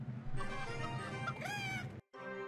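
A chicken clucking and squawking in the Clash Royale mobile game, a loud, busy burst lasting a couple of seconds that cuts off abruptly before a shorter tone.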